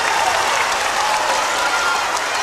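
A packed high school basketball gym roars with continuous applause and cheering as the Coffee County Red Raiders lead by 10 late in the game, a steady, close wash of clapping from the crowd.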